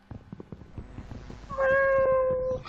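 A Minecraft cat gives a clear drawn-out meow near the end, loud and close, after a stretch of soft clicking and shuffling game sounds.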